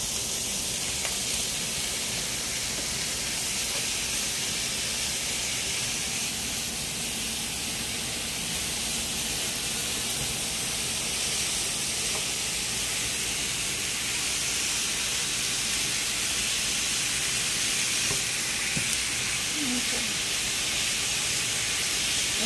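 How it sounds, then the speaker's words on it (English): Beef sizzling steadily in an ordinary pan standing in for a wok during a toasted sesame stir-fry, a dense continuous hiss close up with no talk. "you can kind of hear the sizzle of the beef that's cooking"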